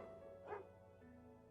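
A dog in a garden gives one short, faint bark over a quiet hum, followed by a sudden loud noise at the very end.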